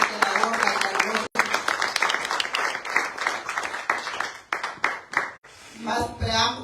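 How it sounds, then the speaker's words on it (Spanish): A church congregation applauding in praise of Jesus Christ, a dense burst of clapping at moderate distance, rising and thinning in waves over several seconds, with voices calling out beneath and near the end. "empecemos dándole un aplauso al Señor Jesucristo"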